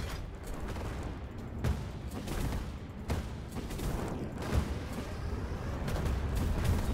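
An airship's forward guns blast away in the game Cloud Pirates, a dense, continuous barrage of booming shots and rumble at steady loudness, with periodic heavier thumps layered through the whole stretch.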